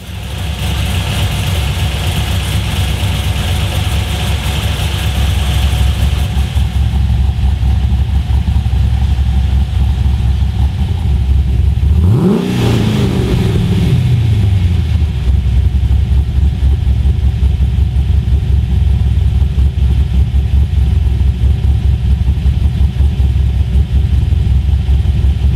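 A Holden LS V8 engine with a VCM camshaft idles with a loud, lumpy rumble, then briefly revs up and falls back around the middle before settling into idle again.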